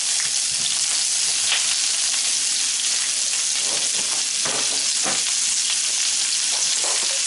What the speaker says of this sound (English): To that, we're going to add our onion. We have one sliced vidalia onion.